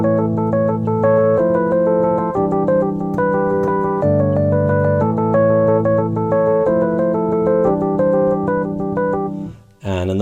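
Piano plays a sampled passage from a song, steady sustained chords and a gently moving melody over a low bass line, close and even in level, fading briefly at the end.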